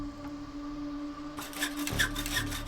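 A hacksaw cuts through metal in the survival game The Long Dark. A quiet hum comes first, then a rough rasping of sawing strokes starts partway through, close and steady.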